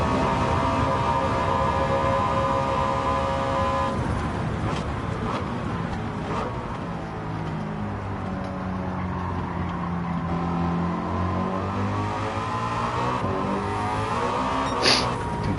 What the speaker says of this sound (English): It's got some kind of big V8, I think.